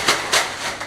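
A cat falling off the animal troughs at a 19th-century Spanish farmhouse under restoration makes a few short, scattered knocks and clatters, close and fairly quiet, with no voices.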